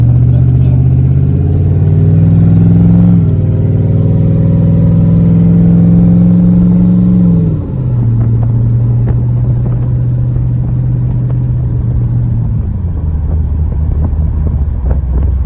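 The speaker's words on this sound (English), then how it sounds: "So second gear on the rev limiter is 100 miles an hour" A bus engine revs hard against the rev limiter in second gear, a loud, steady droning rumble held near the cutoff, dropping in pitch at two gear or throttle changes, with no talk over it.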